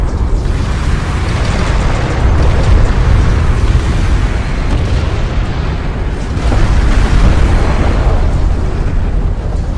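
A light attack vehicle blows up in the desert strategy game Homeworld: Deserts of Kharak, giving a loud, sustained roaring blast with heavy low rumble that surges twice across the whole stretch.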